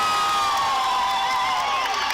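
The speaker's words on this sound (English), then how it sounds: "A big cheering section for Maggie." A crowd at a girls' varsity basketball game cheers for a player, with sustained high shouts and whoops from young voices blending into a loud, continuous roar.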